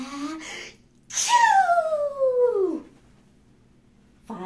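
A storyteller's voice imitates a sneeze after smelling pepper: a short sharp burst followed by a long, drawn-out, falling vocal whine, loud and close, with no other talk.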